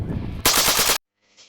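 A PPSh-41 submachine gun fed from an original 1940s drum magazine fires one very fast, loud burst of about half a second, then cuts off sharply into silence with a faint trailing echo.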